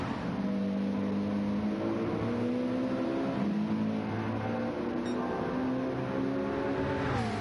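Race car engines from a GT3-class race at Watkins Glen in a racing video game hold a steady drone with rising and falling pitch as cars accelerate and shift, several engines layered close together.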